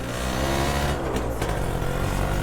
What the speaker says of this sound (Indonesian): Jadi kita coba test drive dulu motor ini.